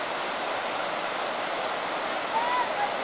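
Spring water at the head springs of the Jordan River rushes in a steady, broad hiss, with a faint voice briefly rising over the flow near the end.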